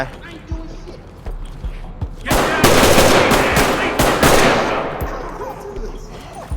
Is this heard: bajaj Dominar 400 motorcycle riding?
no